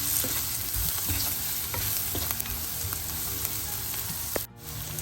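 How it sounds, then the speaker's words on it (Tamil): Radish stirred in a pan with chilli and turmeric powder, a continuous close sizzle with scattered scrapes and clinks of a spoon, ending in a sharp knock and a sudden drop in sound. "சேர்த்துட்டு எல்லாத்தையும் நல்லா கலந்து விடுவேன்."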